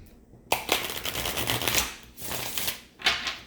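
A deck of cards riffle-shuffled up close, a quick burst of rapid crisp flutters followed by a second shorter riffle.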